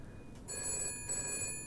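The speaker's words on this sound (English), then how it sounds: "And the phone's ringing." A telephone rings in the police-management video game This is the Police 2, with a bright electronic ring that starts after a brief pause and sounds in two short bursts, with no talk.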